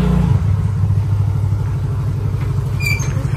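A rented motorcycle idles close by with a steady, throaty engine rumble and slight clatter, running alone without talk.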